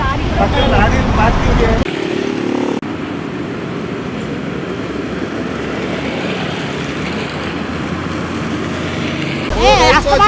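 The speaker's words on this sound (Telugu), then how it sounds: "ఈ లారీలు ఎంత ర్యాష్గా వెళ్తున్నాయి చూడండి" Sand lorries roar past on a road in a continuous loud rush of engine and road noise, with voices heard at the start and end.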